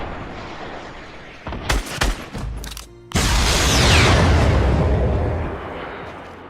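A guided rocket in a Fortnite-style shooter fires in a few sharp bursts, then explodes in a loud, sustained roaring blast that slowly fades.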